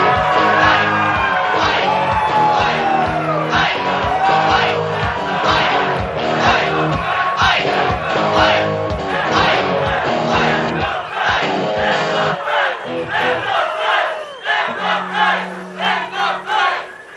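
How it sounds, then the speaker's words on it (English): A large crowd roars and cheers at an election night victory rally for a newly elected senator, with loud rhythmic chanting and whooping that swells and pulses, alongside amplified music or horn-like tones. "What a crowd."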